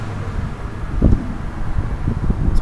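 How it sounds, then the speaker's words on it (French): Strong Mistral wind blowing over the open sea, a steady low roaring buffet with gusts swelling and rumbling against the microphone throughout, loud and continuous with no voices. "Le vent souffle."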